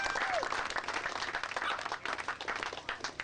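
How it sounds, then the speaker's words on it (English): Audience applause at a Sunday rider's meeting for a race, a dense burst of many hands clapping that carries steadily through the whole moment with some crowd murmur beneath. "Sammy Peterson, give him a quick round of applause"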